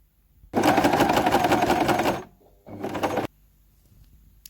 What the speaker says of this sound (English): then we're gonna top stitch right next to that seam just to keep everything nice